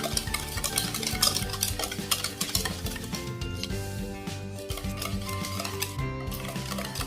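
Sugar for a banana cake is stirred and melted in a pan, a spoon scraping and clinking in a steady rhythm with faint tones ringing underneath.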